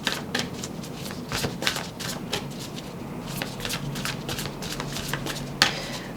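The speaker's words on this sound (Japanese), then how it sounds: "ちょっとじゃあね最後にもう一枚引いてみたいと思います。" Tarot cards are shuffled by hand, a run of soft, close, papery riffling flicks repeating at an uneven pace.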